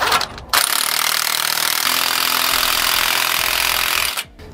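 A power impact tool drives nuts tight on a Roadmaster Reflex steering stabilizer bracket on a 2018 Ford F-53, a loud, continuous buzzing rattle of about four seconds that stops abruptly.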